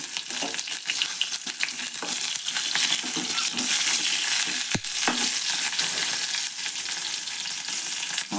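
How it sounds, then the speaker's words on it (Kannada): Green chillies and tomato frying in a pan for chutney, a steady close sizzle with stirring scrapes running throughout and one sharp knock midway, no voices. "ಟೊಮೆಟೊ ಹುರ್ಯಾಕ್ತೀನಲ್ರಿ ಇದ್ರಾಗ ನಾನು ಹಸಿ ಮೆಣಸಿನ್ಕಾಯಿ ಹಾಕ್ತೇನೆ ರೀ"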